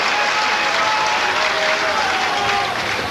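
Rugby league crowd at a Bradford Bulls versus Hull friendly applauding, dense sustained clapping filling the stadium with general crowd noise, loud and continuous.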